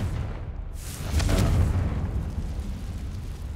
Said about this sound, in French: je trouve que l'explosion de Confringo est un peu plus impressionnante